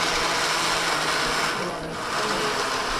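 A blender grinding roasted peanuts runs continuously with a loud, dense whirring grind that dips briefly in the middle before resuming.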